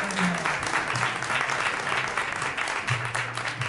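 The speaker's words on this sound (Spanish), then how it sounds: "Reiteramos el aplauso más fuerte para la doctora Maray." An audience at a university science and innovation fair applauds steadily and dense for several seconds, with faint voices mixed into the clapping.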